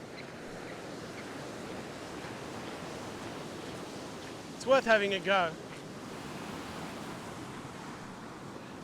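Ocean waves break and wash continuously on a rocky beach, a steady surf roar with someone speaking briefly over it midway.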